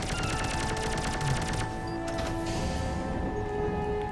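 Rapid bursts of video game gunfire, laser weapons in a spaceship combat game, crackle as a dense continuous barrage over layered game music and effects, steady and loud throughout.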